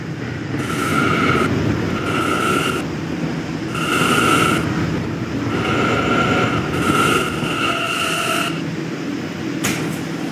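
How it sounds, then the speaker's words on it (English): A westbound E subway train sits at Fairview Avenue station, with a loud, steady rumble of the train and ventilation overlaid by repeated chime-like electronic tones in bursts. "This is a Westwatop bound E train"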